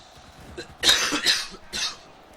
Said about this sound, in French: Je vais pas mal tousser.